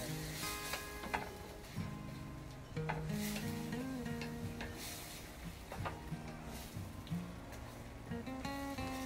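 Chicken adobo with soy sauce is stirred in a pan, with a soft sizzle, scraping utensil strokes and clinks against the cookware. Loud, tonal music plays throughout and largely covers the cooking sounds.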